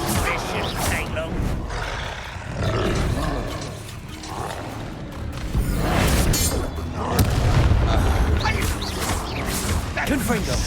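A Bombarda blasting spell is cast in a Hogwarts Legacy duel, with booming explosive blasts and roaring magical rumbles layered over continuous game combat noise and spoken voices.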